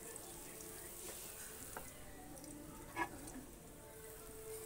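Onion and garlic paste frying in a pan gives a soft, faint sizzle, steady throughout, with a brief louder crackle partway through.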